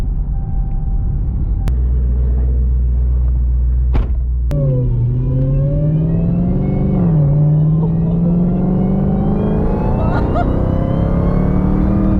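A 2016 Dodge Challenger SRT Hellcat with a rebuilt engine drones loud and steady from inside the car while driving, its deep rumble climbing and dipping in pitch as it accelerates and shifts.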